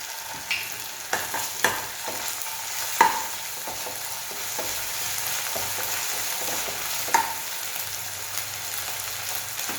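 Onion fries in a pan with ginger garlic paste added for tomato rice, a steady soft sizzle broken by scattered stirring clicks and scrapes, close up with no talk.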